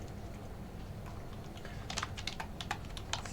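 Code is typed on a computer keyboard while a token pricing smart contract is written. A short cluster of crisp, close keystrokes comes in the second half over a low steady background hum, with no speech.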